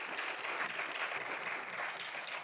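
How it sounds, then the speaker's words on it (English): Audience applause at a university symposium session on load flexibility and smart products, a steady dense clapping from a full room that holds level throughout without pause. "how about one more round of applause for David, John, Sam, and Vedant?"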